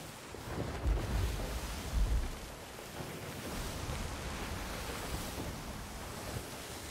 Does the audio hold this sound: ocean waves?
yes